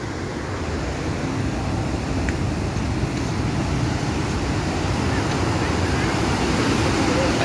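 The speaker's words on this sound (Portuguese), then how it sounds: "Olha a água descendo aí na cachoeira de Missão Velha" Heavy rainwater rushes down the Missão Velha waterfall in Ceará, Brazil, a loud, unbroken roar that fills the whole scene without letting up.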